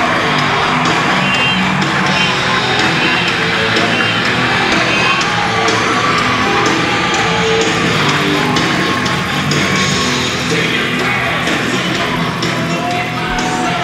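A home crowd at a college ice hockey game between UMBC and Virginia Tech at the Roanoke Civic Center roars continuously with loud cheering, yells and whoops filling the arena.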